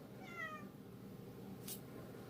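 A domestic cat meows once, a short rising-and-falling call heard close by over a low indoor hum, with a brief rustle following.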